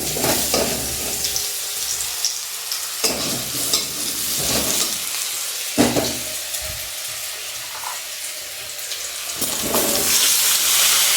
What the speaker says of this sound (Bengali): তা আলুটা একটু ভেজে আর সমস্তগুলো একসাথে সেদ্ধ করবো আগে